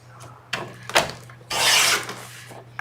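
Trimming the edge off a paper card for a tag, with close scraping and rubbing strokes, a few short sharp clicks, then a longer rasping cut.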